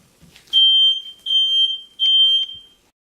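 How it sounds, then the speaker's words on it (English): A kitchen smoke alarm, set off by cooking gravy on the stove without the vent, sounds three loud, shrill beeps in a row, each lasting about half a second, separated by short gaps. "it sets off my sensitive smoke detectors"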